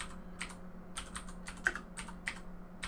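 Quiet keystrokes on a computer keyboard tap out a short command in an uneven rhythm of crisp clicks, close and alone over a low steady hum.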